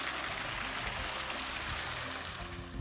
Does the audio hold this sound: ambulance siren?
no